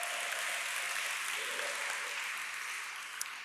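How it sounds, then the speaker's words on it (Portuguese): Congregation applauding during a church evening service, a steady, fairly even wash of clapping that holds throughout and thins slightly toward the end. "Aplaude ao Senhor essa noite."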